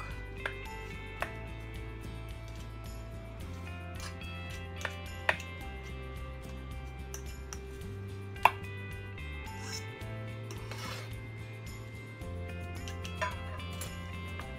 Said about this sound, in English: durugin natin ang yolk